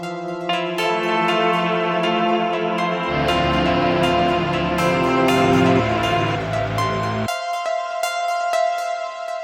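Layered guitars ring out in sustained chords with echo and reverb, a lower part entering midway and thickening the sound before dropping away, leaving bright repeated plucked notes to finish.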